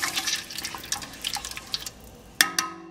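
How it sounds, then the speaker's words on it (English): Canned tomatoes are poured from several cans into a pot of stuffed pepper soup, making soft, wet splashing and glugging sounds. Two sharp metallic clinks ring out near the end, and there is no talking. "So I'm pouring 6 cans in there."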